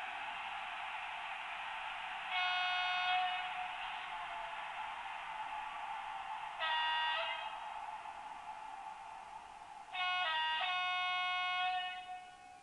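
A Märklin model train locomotive plays digital sound effects: three short tonal bursts like a horn or whistle, separated by pauses, over a faint steady hiss at low volume.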